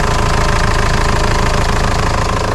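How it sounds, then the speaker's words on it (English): An old UK ice cream van's engine, about 149,000 miles on it and a suspected blown head gasket, runs steadily up close with a loud, continuous rumble and a rapid rhythmic knock throughout. "at least it started. Yeah. Sounds actually alright, but like I said, I do think the head gasket might have gone"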